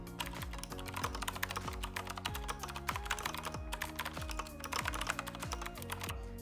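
Fingers type quickly on an Azio RCK Elwood keyboard, a close, steady clatter of rapid key presses with no talk over it.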